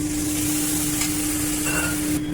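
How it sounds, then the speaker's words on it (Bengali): Spices with dried and green chillies and panch phoron frying gently in oil over low heat: a close, even sizzling hiss under a faint steady hum. "মশলাগুলো দিয়ে আঁচ কমিয়ে হালকা ভেজে"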